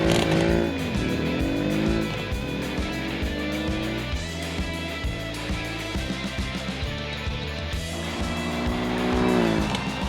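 Drag cars in a racing video game roar down the strip, engines revving through rapid gear shifts with tire squeal, loud and continuous for the whole run without talk.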